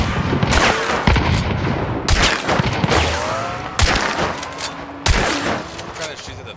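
Gunfire in Hunt: Showdown, a series of loud sharp shots with bursts at irregular intervals and ringing tails, near and heavy, with a player's voice talking between them.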